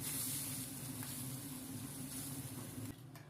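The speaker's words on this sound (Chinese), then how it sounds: "1分钟后倒入青菜烫一下" Greens dropped into a pot of boiling broth for Sichuan boiled fish, a soft steady hiss and bubbling simmer over a low hum, fairly quiet and close, easing off near the end.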